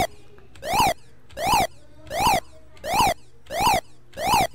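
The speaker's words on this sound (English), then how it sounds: "Here's my siren." Six identical synthetic siren sweeps from a Color Computer (CoCo) programmed in BASIC repeat at a steady rhythm, each rising sharply in pitch and loudness, then falling away, with short gaps between.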